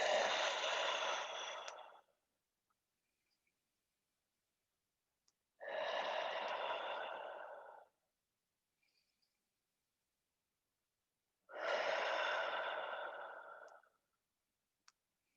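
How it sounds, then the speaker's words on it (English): Slow, deep breathing during a movement class: three long, full exhales of about two seconds each, close and breathy, separated by quiet pauses. "Full exhales here. Let's take a couple more breaths."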